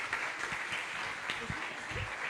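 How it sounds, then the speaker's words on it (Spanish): Audience at a seismic data computing talk gives the presenter a short round of clapping, fairly faint and distant, with a few low thumps and murmurs under it. "Vamos a aplaudir."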